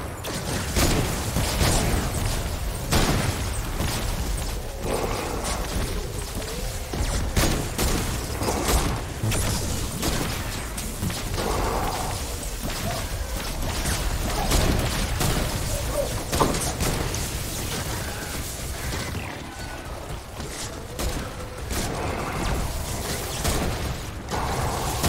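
Rapid gunfire in Fortnite Save the World, dense bursts of sharp cracks and mechanical clatter continuing for the whole stretch, loud and close, layered with game noise and occasional talk.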